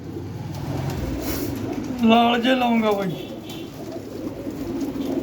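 Flying pigeons coo in low, throaty murmurs close by, under a voice speaking over them, with a faint rumble in the background.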